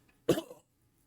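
A voice imitates a single short, wet, rasping cough, as if coming from a bush, clear and close against silence.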